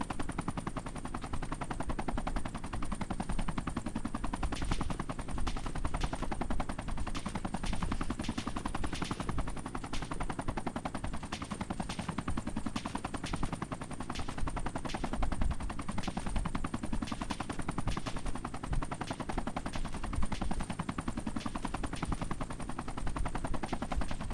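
Rapid bursts of automatic gunfire from the video game Arma 3 crackle continuously, dense and repetitive, with a synthetic game-like quality and a constant high whine behind them.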